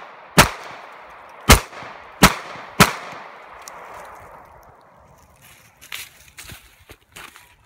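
Four sharp, loud Glock 19 pistol shots fired at an IPV4 vape mod outdoors, spaced roughly a second apart, each with a short decaying echo, followed by faint scattered clicks and rustling.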